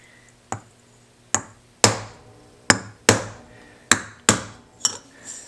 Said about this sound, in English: I'm going to flatten the bottom with this mallet